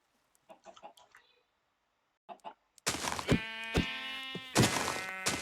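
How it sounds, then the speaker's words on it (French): Minecraft chickens: soft clucks and small knocks at first, then louder, steady clucking and bird calls with a background hum. "Il y a aussi des poules"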